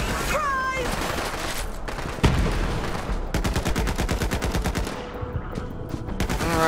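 Rapid bursts of gunfire from the video game Borderlands 3, loud and close, rattling in quick repeated volleys with a sharp shot partway through; a voice speaks briefly at the start.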